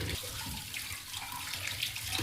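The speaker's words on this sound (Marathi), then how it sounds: "त्यानंतर स्वच्छ पाण्याने धुवून घेतली." Tap water runs steadily over catla fish being washed at a sink, a close continuous splashing gush with no talk.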